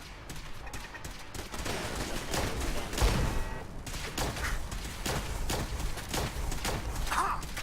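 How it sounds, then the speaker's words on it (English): Automated turrets in Fallout 4 firing at hostiles, a rapid stream of sharp gunshot bursts repeating steadily throughout, with scattered impacts and combat noise mixed in. "So we're going to turn on the turrets."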